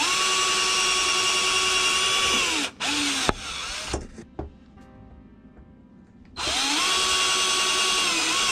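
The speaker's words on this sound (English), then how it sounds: "Use my drill bit, or my drill screw bit." A power drill with a screw bit whirs at high speed installing cordless cellular shades, stops, bursts briefly and falls quiet with small clicks, then spins up loudly again nearby.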